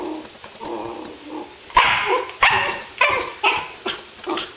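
A wire fox terrier barks five or six times in a steady series, close and sharp, with a few soft whimpering sounds before the barks start.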